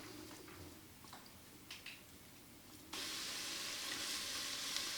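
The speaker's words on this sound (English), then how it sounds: "this is starting to sizzle real good" Thick hickory smoked bacon sizzles in a hot pan, a soft crackle at first that jumps abruptly to a loud, dense, steady hiss of frying fat, with no voices.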